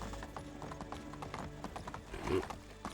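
Horse hooves clip-clop in a steady rhythm as a rider travels on horseback in the medieval game Medieval Dynasty, close and moderately loud over a low game soundtrack, with a brief snort or whinny near the end.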